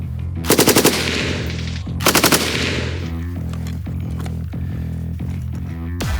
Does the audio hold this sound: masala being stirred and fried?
no